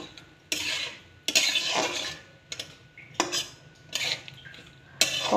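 Gourd peel with salt and turmeric is stirred in a metal pan, giving several separate scraping strokes with short pauses between them, close and fairly quiet.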